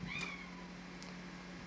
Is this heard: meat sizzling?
no